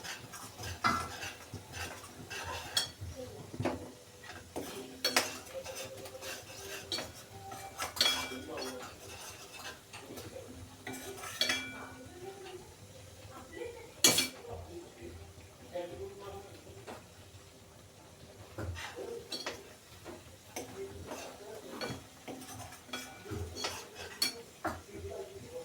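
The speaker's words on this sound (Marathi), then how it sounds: "मसाला छान तेल सुटेपर्यंत परतून घ्यायचं।" A spoon scrapes and clinks against a pan as masala is stirred and sautéed in oil, repeated sharp metallic taps over a faint low sizzle, with a voice talking in between.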